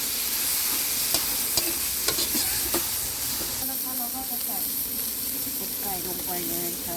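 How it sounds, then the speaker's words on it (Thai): Thai curry paste stir-fried in a pan with very little oil, a steady close sizzle and hiss with scraping stir strokes and a few clinks of the spatula, running continuously without speech. "คั่วลงไป เราจะคั่วให้หอมก่อน คั่วลงไปเลยคั่วให้หอม ไม่ต้องใส่น้ำมันเยอะ"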